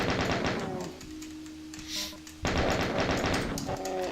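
Rapid gunfire from the chain gun in the video game Doom, a dense burst of automatic shots in the opening second and again after a pause, loud and close with a brief quieter gap between volleys.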